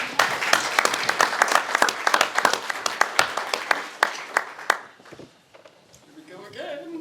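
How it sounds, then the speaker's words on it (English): An audience at a New Mexico candidates forum breaks into loud, dense applause that thins to scattered claps and fades, followed by a brief murmur of voices. "So give yourself a round of applause."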